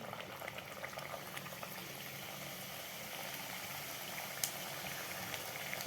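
Mathri pieces of wheat flour and semolina dough deep-frying in oil over medium heat, a steady, dense bubbling hiss that holds evenly throughout, close and without speech.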